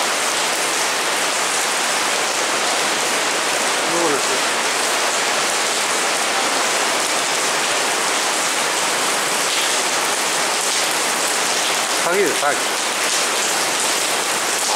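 Heavy, steady rain from a heavy-rain warning downpour roars on a shopping arcade roof throughout, a dense wash of drumming noise, with a few brief voices mixed in.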